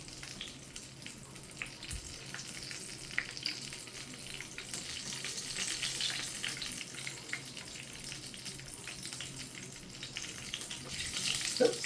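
Fried meat pie lifted out of hot oil, with steady crackling sizzle and oil dripping back into the pan, a continuous bright fizz throughout that grows a little louder toward the end.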